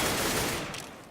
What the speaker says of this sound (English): MBK gets himself a headshot onto FACEIT to take it down